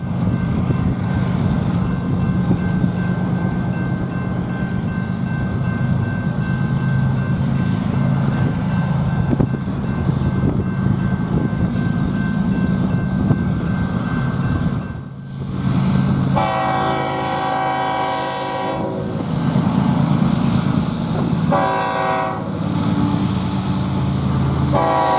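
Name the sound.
BNSF freight train passing with horn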